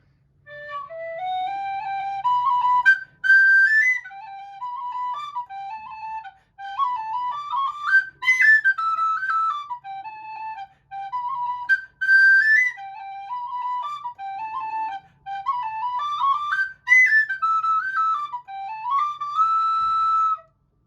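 A Tony Dixon DX004 D tin whistle plays the Legacy jig, bright and clear, in several phrases separated by brief pauses, with no talking.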